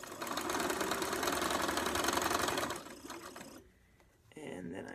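A sewing machine stitches a quilt seam at a steady clip, the needle's rapid chatter continuing for a few seconds before stopping, then a short pause and quiet handling noise.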